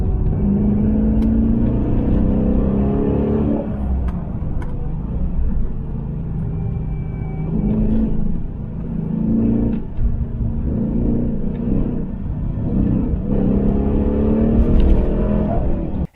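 A Dodge Challenger R/T with a 5.7-liter Hemi V8 rumbles steadily and deeply, with several swelling revs and surges riding over a continuous low growl, loud and close.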